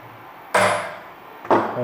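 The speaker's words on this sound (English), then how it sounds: "I'm going to whack it with the hammer." Two loud, ringing hammer blows land close by about a second apart on a DIY air blast system for a CNC mill, each with a short metallic decay.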